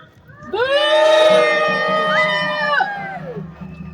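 Crowd at a workers' rally outside city hall letting out a loud sustained cheer of mixed voices that swells, holds for a few seconds, then fades into low background noise.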